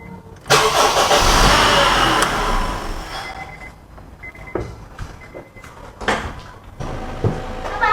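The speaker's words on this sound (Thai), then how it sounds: "แล้วก็ทำการเติมใหม่ แล้วก็ทำการสตาร์ทอีกครั้ง" A Honda Accord engine starts after its power steering fluid has been refilled: a loud burst of cranking and catching that settles into a rough idle, with clunks and knocks following.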